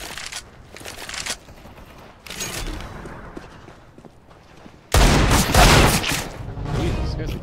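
Counter-Strike: Global Offensive gunfire, loud close bursts of rapid shots, with a heavy sustained barrage in the final seconds.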